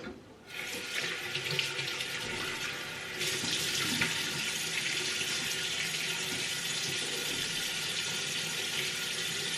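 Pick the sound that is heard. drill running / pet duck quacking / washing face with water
washing face with water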